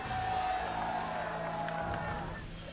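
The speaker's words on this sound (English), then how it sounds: "Mika, they're cheering for you still." A stadium crowd at the Strongman Champions League World Finals 2022 roars and cheers for strongman Mika, with Finnish flags waving, as a steady, loud wall of voices that fades slightly at the end.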